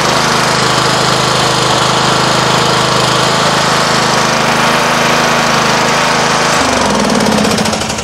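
A Craftsman LT1000 riding lawn mower engine runs loud and close with a steady, rapid chugging rattle, then the pitch drops near the end as it throttles down.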